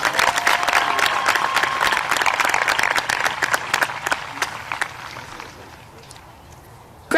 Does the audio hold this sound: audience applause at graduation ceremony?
yes